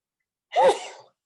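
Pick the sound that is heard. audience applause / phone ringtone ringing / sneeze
sneeze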